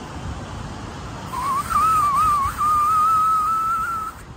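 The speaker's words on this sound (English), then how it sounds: "Let me see if I can summon this whistle." A person produces a fingerless whistle outdoors in fog: a single sustained, wavering tone that starts after a moment of quiet and holds for a few seconds, clear and close.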